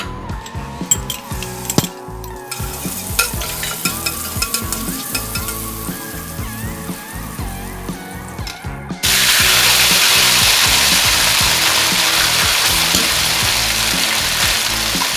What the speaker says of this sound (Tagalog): at ipiprito na natin siya ngayon